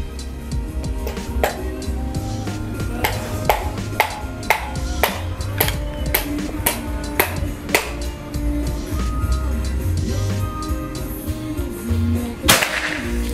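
Sharp, dry cracks from a 2024 Bocap PCP air rifle cut through a steady background bed during target shooting, with one especially loud snap near the end.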